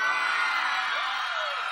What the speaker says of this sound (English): I want to see how much noise y'all can make